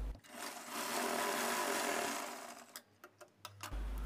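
A sewing machine stitches along a blouse seam, running steadily and close for about two seconds, then breaking into short stop-start bursts.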